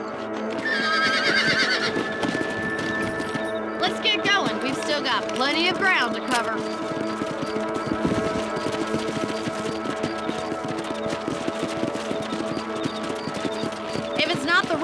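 Horses in the Red Dead Redemption video game whinny loudly near the start, followed by hooves clip-clopping steadily over ground as someone talks over the ride and ambient game music.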